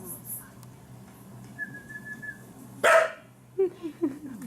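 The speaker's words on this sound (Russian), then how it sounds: "Сейчас посвистит." A person gives a short, thin whistle outdoors, and a dog answers with a sudden loud bark followed by a few shorter yips and growling barks nearby.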